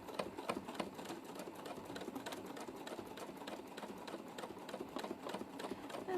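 Sewing machine stitching free motion quilting on fabric: a fast, even, faint mechanical ticking rhythm that continues steadily throughout.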